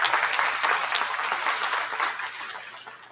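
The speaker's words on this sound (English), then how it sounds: "Let's give a round of applause." Audience clapping at the 2024 national Oberhasli dairy goat show after the senior champion lineup, a moderate burst of applause that slowly thins and fades, with a low hum beneath.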